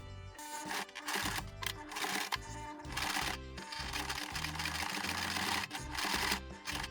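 A sewing machine stitches a label onto a t-shirt, a rapid rhythmic clatter of the needle running in quick bursts with brief pauses, close and fairly quiet.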